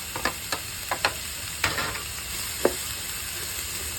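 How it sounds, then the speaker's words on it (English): Diced peppers sautéing in a pan with ham for meat paella, a steady soft sizzle under scattered scraping clicks of stirring, with no talk. "And we saute for at least 3 minutes."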